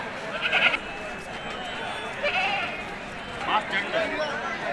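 Sheep and lambs bleat several times at moderate distance at a sheep and goat market, short wavering calls spaced apart over a busy outdoor background.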